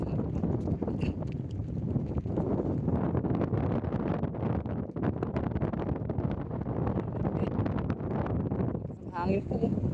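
Heavy wind buffets the microphone on a hanging bridge near a dam in Pantabangan in a constant low roar, with muffled voices faintly underneath.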